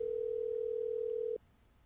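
A steady telephone tone on a call to a guest, holding one even pitch for over a second before cutting off abruptly into quiet background hiss.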